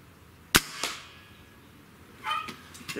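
A Hatsan 135 .30 caliber airgun fires a single 50.15-grain pellet with a sharp, loud crack. A faint later thwack and some light clatter follow in a quiet outdoor setting.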